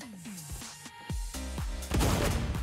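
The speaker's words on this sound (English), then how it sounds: "Okay, that was an explosion." Explosions and gunfire in the WW3 shooter game Zero Caliber, a few sharp whooshing blasts building into a louder boom that ends in a noisy burst, fairly faint overall.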